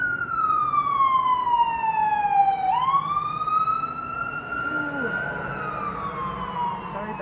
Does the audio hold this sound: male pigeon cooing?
no